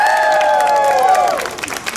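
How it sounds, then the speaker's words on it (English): A large crowd applauds and cheers for the saxophone section of a college band at Disneyland, loud and close, with a sustained wash of clapping and shouts that begins to fade. "of applause for our saxophone section"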